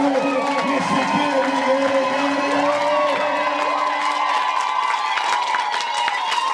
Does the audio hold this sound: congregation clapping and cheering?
yes